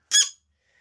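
A chair being dragged into a room gives one short, bright squeak lasting about a quarter second, fairly close and alone, followed by near silence and a faint thin tone at the end.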